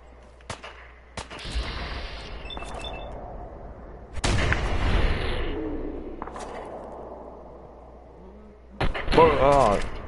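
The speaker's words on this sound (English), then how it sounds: "So let's go use a shotgun on him." Shotgun fire in the video game Fallout 4 during a base raid, with a few loud booming blasts spaced seconds apart, each trailing off, over quiet game ambience.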